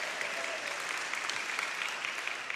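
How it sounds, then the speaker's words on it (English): An audience gives a round of applause for a young boy volunteer called up on stage, with dense, steady clapping that holds at an even level throughout. "Give Braxton a round of applause."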